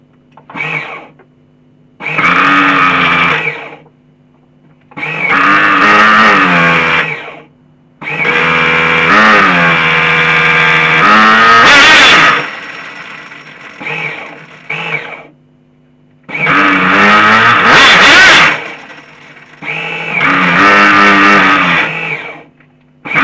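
Nitro RC boat engine on a Flying Point Probe VXI, running on 16% nitro after carburettor work, buzzes loudly in repeated bursts of a few seconds each, revving up and cutting out between runs.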